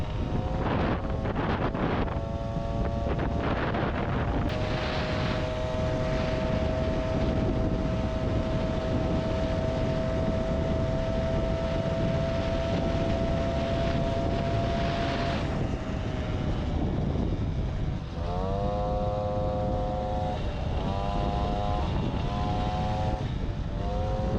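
MBK 40V moped with a 70 main jet held at top speed, a steady high-pitched two-stroke drone under heavy wind rush, pitch dropping and wavering near the end.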